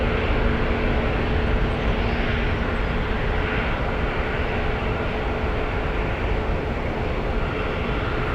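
An airliner departs San Francisco airport, its broad, steady jet roar loud and continuous throughout with no break or clear rise or fall.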